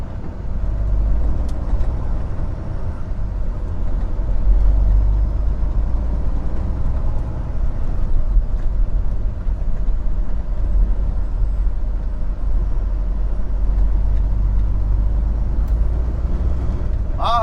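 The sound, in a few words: road traffic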